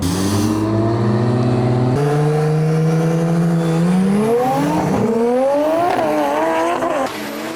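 Two single-turbo Dodge Chargers race on a Detroit street, engines howling and pitch climbing steadily through the gears in a loud, continuous roar with a brief dip near the end.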